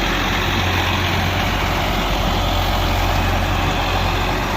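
A heavy harvesting machine engine runs nearby in crop fields near Mangla Dam, Dadyal, a loud, steady, rumbling drone with no break.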